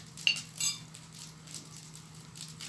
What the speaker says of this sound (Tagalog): Yan, maliit din na kaldero.